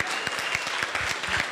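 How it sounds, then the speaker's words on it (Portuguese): Studio audience at a Brazilian TV variety show clapping in a short, brisk burst of rhythmic applause, close and lively. "Uma salva de palmas."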